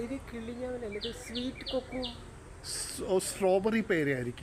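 Small birds chirping and tweeting in quick repeated calls around a fruit tree outdoors, heard alongside people talking nearby.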